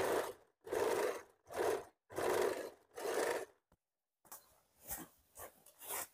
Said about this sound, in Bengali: এখন জাস্ট আমরা পেছনের পার্ট আর সামনের পার্ট জয়েন করার জন্য এখান থেকে সেলাইটা দিচ্ছি।